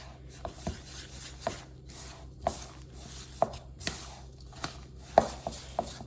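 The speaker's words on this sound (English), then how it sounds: "push against the sides of the bowl, mix it in, just till it's all combined here" A rubber spatula works thick cake batter around a mixing bowl for brown butter cakes, giving repeated dull scrapes and soft knocks against the sides at an uneven rhythm, close and moderately loud with no talking.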